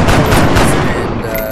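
Alien weapons fire during a mission in XCOM: Enemy Within, heard as loud, close bursts of video-game gunfire that crack in quick succession and then fade slightly toward the end, with no talking.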